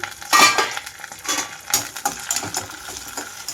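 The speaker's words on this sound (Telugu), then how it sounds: "మూత తీస్తున్నాను ఇక్కడ" A metal lid is lifted off a cooking pan with onions and green chillies cooking in tempering, producing a few close clanks and scrapes of metal cookware over light sizzling.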